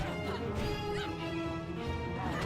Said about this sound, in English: that's what everybody needs, is to smash random pots and get gold